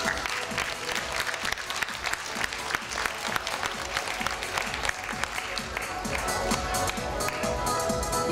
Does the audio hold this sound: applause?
yes